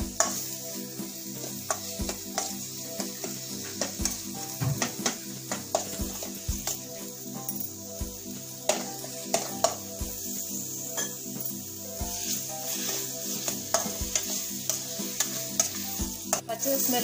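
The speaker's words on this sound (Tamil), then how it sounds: "பச்சை ஸ்மெல் போற வரைக்கும் கொஞ்சம் ஃப்ரை பண்ணலாம்" Paneer butter masala sizzles and fries in a pan while a utensil stirs and scrapes it in steady, repeated strokes; the hiss is constant and close, with no talking.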